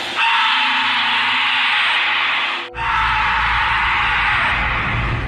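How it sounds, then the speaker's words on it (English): A drawn-out, yelling scream rings through the woods, loud and strained. It breaks off abruptly partway through, then a second identical cry follows over a rougher, noisier background. "the scream sounds exactly the same both times"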